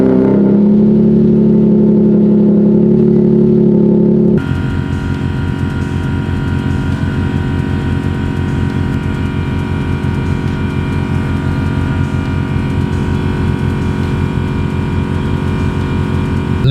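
Race car engine while driving: a loud, steady, close mechanical drone with a low buzzing harmonic tone that shifts in pitch after a few seconds, then holds a constant roar with no voices.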